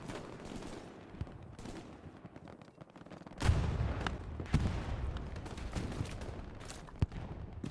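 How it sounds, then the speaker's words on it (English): Hipfire machine gun in Hell Let Loose near a church in Carentan, rattling off loud close bursts amid distant battlefield shots and booms, with sharp single cracks punctuating the steady combat din. "Just walking around with that hipfire machine gun."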